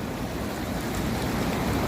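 Floodwater rushes over the Ibrahimpatnam–Batasingaram road after torrential rain, making a loud, steady broadband roar like surf that does not let up.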